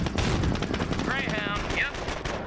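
Rapid machine-gun and rifle fire rattles loudly in the World War II strategy game Company of Heroes, dense overlapping bursts with shouted voices over the battle.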